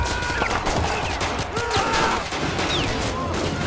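Gunfire from a Call To Arms video game battle set at Stalingrad, rapid crackling shots and bursts overlapping in a busy fusillade, heard under faint voices and battle noise.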